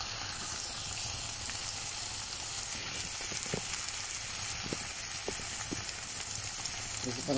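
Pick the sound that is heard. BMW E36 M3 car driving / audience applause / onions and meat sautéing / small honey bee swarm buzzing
onions and meat sautéing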